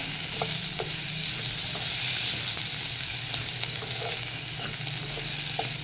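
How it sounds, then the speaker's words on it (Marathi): Chopped tomato sautéing in oil in a pan on a gas stove, a steady close sizzle of frying with occasional stirring taps, continuous and alone without talk. "याच्यामध्ये मी टॉमॅटो घातला आहे आणि टॉमॅटोसुद्धा आपण छान परतून घेऊया"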